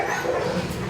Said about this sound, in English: They're just little baby beagles.